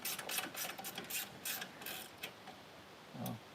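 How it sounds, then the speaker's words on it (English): Bolts being removed from a part of a Chevrolet S10-based Blazer, heard as a run of close metallic ratchet clicks in bursts, then a brief heavier clunk near the end, with no talking. "Pretty simple, you just take these bolts out."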